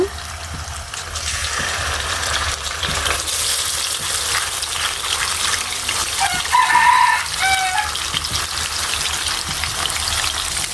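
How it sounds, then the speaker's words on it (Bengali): Catla fish pieces fry in soybean oil with a loud, constant sizzling hiss, joined midway by a brief high chirping or crowing sound in the background. "আমি মাছগুলো এক এক করে দিয়ে হালকা করে ভেজে নিব"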